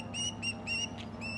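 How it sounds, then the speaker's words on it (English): A bird chirps outdoors in a few short, bright repeated calls over a steady low background hum. "Uh-oh, here comes a bird."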